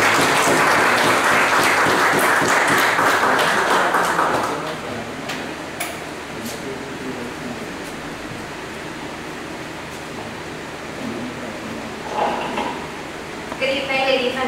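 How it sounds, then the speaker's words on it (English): Loud applause from an audience at a political meeting of the United National Congress in Couva South, a dense round of clapping that fades after about four seconds into quieter room noise and murmur. "with a lusty round of applause"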